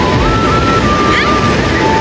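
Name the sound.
ocean waves crashing at Puri beach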